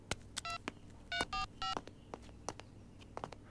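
A phone number dialed in a film: several short touch-tone beeps, some single and some in quick pairs, mixed with light button clicks over a faint background hum.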